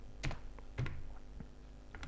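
A few separate keystrokes click on a computer keyboard, close and fairly faint, with short pauses between presses.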